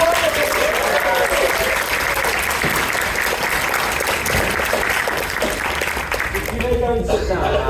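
An audience at an improv comedy show at a furry convention claps steadily for a performer, sustained applause throughout with a voice talking over it near the end.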